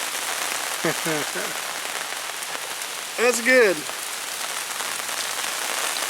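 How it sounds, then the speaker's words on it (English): Steady rain patters on a surface throughout, with a couple of short spoken remarks breaking through the even hiss. "It's raining."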